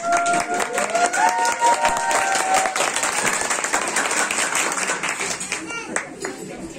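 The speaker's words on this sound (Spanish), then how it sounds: "aplauso con volumen" A theatre comedy audience gives a burst of strong applause, dense clapping that holds steady for several seconds with a few whistles near the start.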